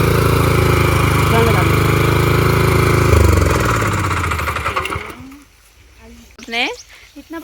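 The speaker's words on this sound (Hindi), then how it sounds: "रस्सी से हम खींचेंगे इस ट्रैक्टर को" A tractor stuck in a field in rural Uttarakhand is pulled out with a rope, its engine chugging loudly and steadily for several seconds, then cutting out, leaving a quieter stretch with a voice speaking nearby.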